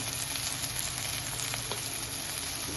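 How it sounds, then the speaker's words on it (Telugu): Turmeric sizzling in hot oil in a pan for ridge gourd dal, a steady close hiss of frying that runs unbroken and alone throughout. "చూసారా, ఇప్పుడు కరెక్ట్గా ఇది ఫ్రై అయింది"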